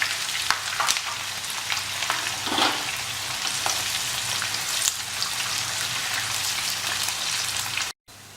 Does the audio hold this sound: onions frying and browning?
yes